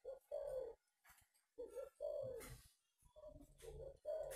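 A female pigeon brooding on its nest gives repeated soft, low cooing phrases separated by brief pauses, close and clear against a quiet background.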